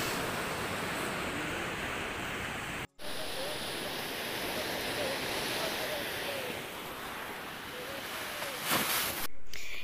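Waves breaking on a seashore on a morning visit, a steady broad wash of surf with some wind, continuous throughout with a brief dropout near three seconds and a louder gust near the end.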